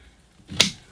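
A single sharp snip as pruning shears cut through a Ficus benjamina bonsai branch, one brief crisp click close by, otherwise near silence.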